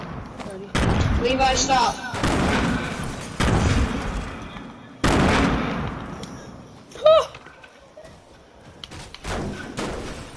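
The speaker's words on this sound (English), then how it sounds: "Who's throwing grenades?" Grenades exploding in a video game, several loud booming blasts with long rumbling tails spread across the clip, with a player speaking briefly between them.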